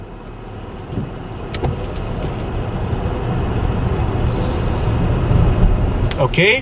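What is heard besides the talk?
Hyundai Tucson N-line plug-in hybrid driving and braking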